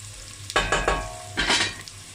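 A cauliflower dish is stirred in a pan, with a few scraping strokes and a soft sizzle in two short bursts separated by a brief pause.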